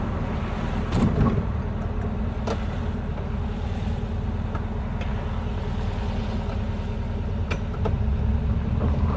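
A 1968 VW Type 3 Squareback with an 1835cc engine drones steadily and loudly throughout, a low rumble mixed with wind buffeting and a few faint clicks, with no talking.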